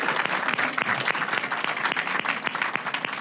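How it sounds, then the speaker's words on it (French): An audience claps for two guests at a filmed science talk, a short, steady burst of crowd applause with distinct individual claps poking through, fairly close and even throughout. "On peut vous applaudir."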